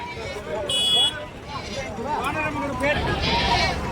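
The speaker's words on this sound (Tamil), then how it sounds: "கிருஷ்ணகிரி மாவட்டம் மிகப்பெரிய ஒரு ஆட்டு சந்தை" Goats bleat repeatedly amid a crowded weekly livestock market in Krishnagiri district, their wavering cries overlapping with steady crowd chatter and general bustle throughout.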